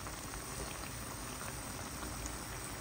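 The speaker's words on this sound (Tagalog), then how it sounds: "Pakuluan lang po natin." Beef adobo with soda, carrots, potatoes and mushrooms simmers in a pot, giving a steady, close, dense bubbling hiss that holds evenly for a few seconds with no talking.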